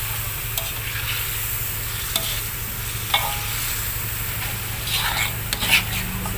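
Spices with turmeric and torn lime leaves are stirred in a sizzling frying pan for a Padang-style tripe curry, with steady frying hiss and occasional scraping clinks of the utensil against the pan.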